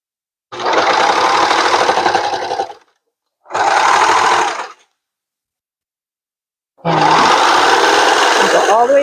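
Sewing machine stitching a half- to five-eighths-inch side seam on a burrito-style pillowcase with a lined-up cuff: three loud, steady whirring runs of stitching, separated by short pauses.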